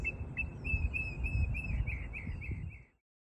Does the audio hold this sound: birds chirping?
yes